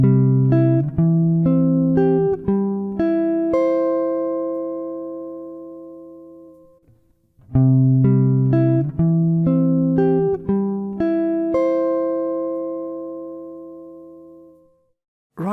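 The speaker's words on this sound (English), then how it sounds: "I'm going to play that C spread arpeggio sequence" Jazz guitar plays a C spread arpeggio sequence: clean, plucked notes rolling up in wide intervals and ringing out, performed twice with a brief pause between, clear and close with no talking.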